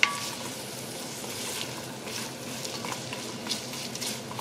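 Onion, carrots and celery sauté in a pot as the base for a Trinidadian fish broth, giving a soft, steady sizzle with faint stirring scrapes throughout.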